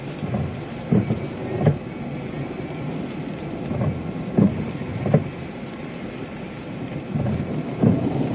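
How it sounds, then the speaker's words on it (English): Continuous low rumbling thunder rolls from a supercell storm over South Dakota, with a series of heavier booms rising out of a steady distant roar. "Listen to the non-stop thunder on this thing"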